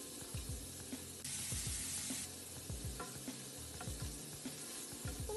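Onion frying with a little honey in a pan, caramelizing, gives off a steady sizzle with a louder burst of hiss partway through, and no one speaks over it.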